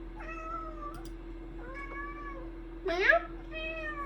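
A cat meows several times in drawn-out, wavering calls close by, one rising sharper and louder than the rest, over a low steady hum.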